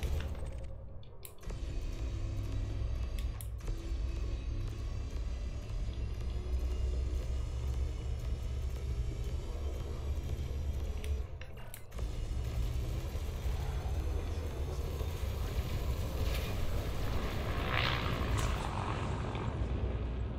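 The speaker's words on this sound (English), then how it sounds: "I love the sound of the engines from the Asp." Asp Explorer spaceship engines in a video game give a continuous low rumbling drone with a whining tone, steady and loud throughout, briefly dipping twice.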